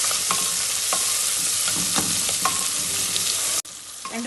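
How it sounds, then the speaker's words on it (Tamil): Green chilies sauté in hot oil with a steady, close sizzle and repeated stirring clinks against the pan, no voices, and a brief dip near the end before the frying noise resumes. "பச்சை மிளகாயை சேர்த்து நல்லா வதக்கிட்டுக்கோங்க."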